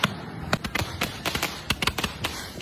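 Diwali firecrackers burst in a rapid irregular string of sharp cracks and pops, some close and loud, others fainter, with no talking.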